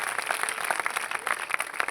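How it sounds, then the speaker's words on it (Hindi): Dense applause from a church congregation at a New Year festival service, steady crackling claps filling the whole stretch at a fairly even level, no voices on top. "ताली बजा के प्रभु को धन्यवाद दे सकते हैं आप लोग"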